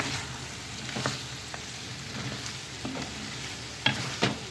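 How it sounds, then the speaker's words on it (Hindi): Carrots and mixed vegetables sauté and sizzle steadily in a hot pan, with occasional scrapes and clinks of a spoon stirring them, close and continuous with no talk. "अभी थोड़ा सा मैं इसको मज़ीद भूनूँगी।"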